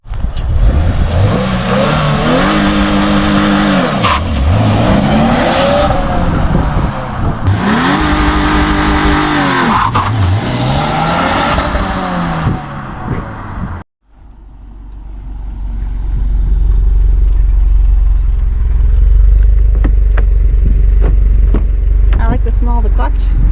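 A 2023 Subaru WRX premium in World Rally Blue revs hard with a stepped, rising engine note during a launch control attempt, holds high, drops off abruptly, then idles and rumbles on under cabin noise as people talk.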